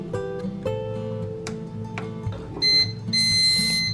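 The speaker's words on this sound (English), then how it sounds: "It does a little beep." Hamilton Beach bread maker giving short electronic beeps on start, a few tones close by, ending in a longer high beep.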